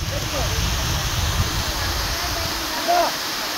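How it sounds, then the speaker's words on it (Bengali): Anandagiri (Thatiguda) waterfall in the Araku Valley sends a large volume of water crashing down, a steady broadband roar and hiss running throughout, with brief human voices faintly over it. "বিশাল জলরাশি নেমে আসছে উপর থেকে।"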